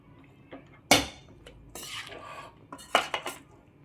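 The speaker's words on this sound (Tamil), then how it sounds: "கொத்தமல்லி தழை போட்டும் கூட நல்லா கிளறி விட்டுருங்க." Spicy Indian-style masala pasta with coriander leaves stirred in a metal pan, sharp clanks and scrapes of a spoon against the pot in uneven bursts, close and loud with quiet gaps between.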